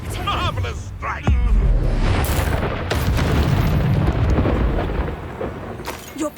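The Incendio fire spell is cast in Hogwarts Legacy, a deep booming burst that rolls into a sustained roaring rumble over several seconds, with a person talking over the game sound.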